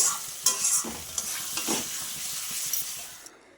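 A spice masala with sour yogurt fries in a pan and is stirred slowly, with a close, continuous sizzle broken by scraping stirring strokes throughout.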